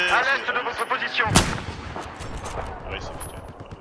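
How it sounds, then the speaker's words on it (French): Machine gun fire in the video game Battlefield 4, a loud burst of close gunshots with a sharp blast near the start, mixed with game sounds and a voice. "Situation mitrailleuse hostile, à l'est de votre position."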